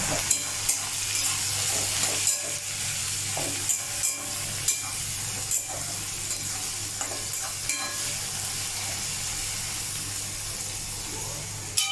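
Onions frying in a pan with sugar stirred in, a soft steady sizzle broken by repeated scraping strokes of a spoon against the pan at a loose rhythm, fairly quiet.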